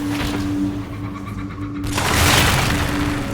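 Loud crunching boom as an ancient weapon is destroyed in Dragon Age Inquisition, a dense rumbling blast with a sharp burst of debris-like noise near the end, with no voices.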